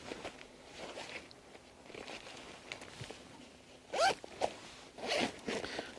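Zippers on the two mesh lid pockets of a 5.11 Tactical Rush 12 backpack being pulled, a few quick close rasping zips in short bursts with quieter handling rustle between them.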